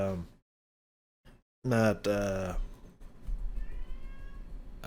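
Domestic cat gives one loud, drawn-out meow close by after a short silence, then quieter background noise with a faint tonal sound follows.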